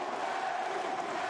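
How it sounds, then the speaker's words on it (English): An arena crowd at a Combate Americas MMA event in Peru cheers in a steady, distant roar, a faint continuous wash of voices with no single standout shout. "the crowd going through the roof here"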